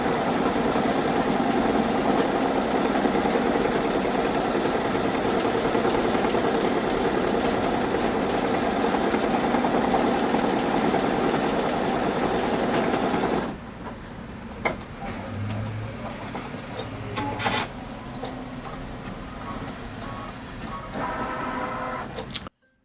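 An embroidery machine sews the final stitches of an in-the-hoop mini notebook cover, a loud, even mechanical rattle running steadily, then stopping into quieter clicks, thumps and a short electronic chime near the end.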